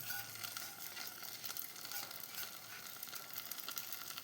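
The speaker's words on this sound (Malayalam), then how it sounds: "നമ്മൾ തേങ്ങ വറുത്തത് കൂട്ടുകറിയിലേക്ക് ഒഴിച്ചു കൊടുക്കുന്നതാണ്" Roasted coconut poured into a Kannur-style koottu curry sets off a steady, fairly soft sizzle that hisses on without a break and with no voices.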